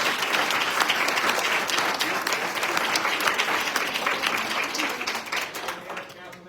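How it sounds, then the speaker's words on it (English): A council meeting audience applauds championship basketball league teams, sustained dense clapping from a crowd that tapers off at the end. "How about a big round of applause?"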